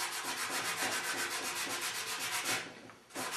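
Car body filler is hand-sanded with 240-grit sandpaper in quick, even back-and-forth strokes, close and crisp. The strokes run steadily, then pause briefly before resuming near the end.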